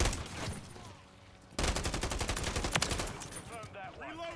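Gunfire from a video game crackles in rapid bursts, a quieter stretch followed by a loud, dense volley of repeated shots, with faint voices near the end.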